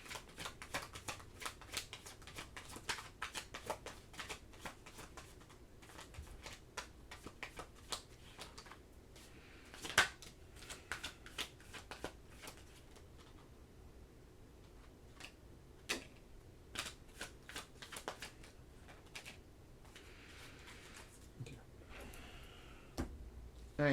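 Tarot cards shuffled in the hands, a steady run of soft riffling taps and snaps with a few sharper clacks, close and fairly quiet with no talking.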